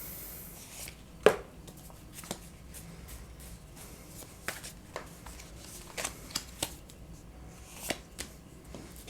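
Tarot cards handled and shuffled during a reading, close and quiet, with scattered crisp snaps and flicks standing out over a soft background.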